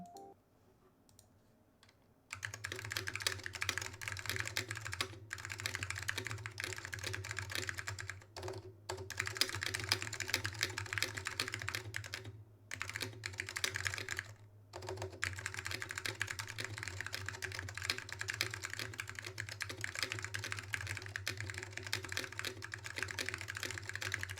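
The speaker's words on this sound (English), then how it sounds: "Pardon the rattly spacebar because it is stabless." Steady typing on an ADK64 keyboard with Alps switches and Apple AEKII keycaps, close and continuous, with a rattly stabless spacebar thunking among the key clicks and a low background hum throughout.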